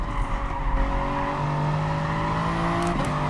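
A Gr.3 race car accelerates hard down the seaside straight at Dragon Trail in Gran Turismo Sport, its engine note a loud, steady, rising whine with a brief tyre squeal near the end.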